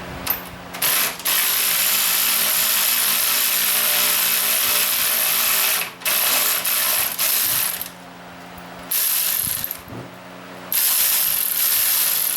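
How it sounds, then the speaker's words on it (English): A ratchet backs a bolt out of a motor mount, giving steady, rapid close-up clicking that runs almost continuously, with a few short pauses between strokes and no talking. "We're going to take one bolt off."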